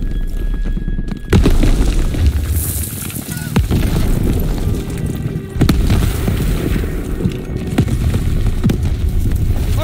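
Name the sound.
artillery explosions hitting the beach in video game Call of Duty WW2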